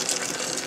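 Liquid poured from a tin into a brewing vessel while making an IPA beer, a steady close gush of splashing liquid running without a break.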